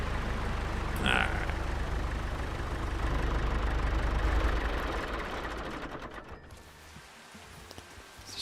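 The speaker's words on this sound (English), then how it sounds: "This thing's so loud. All the other tractors aren't this loud." A loud modded tractor idles in a farming video game, a continuous low engine rumble that holds steady and then fades gradually toward the end.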